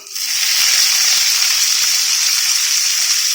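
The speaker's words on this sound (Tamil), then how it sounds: "பூண்டு கொஞ்சம் வதங்கின பிறகு நம்ம வெங்காயம் சேர்த்துக்கலாம்" Small onions drop into garlic frying in hot oil for a fish curry, raising a loud, close, continuous sizzle and hiss that holds steady throughout.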